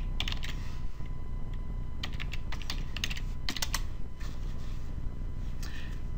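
Fingers type an email address and password on a computer keyboard, making rapid, uneven bursts of close, crisp key clicks separated by short pauses, with no talking.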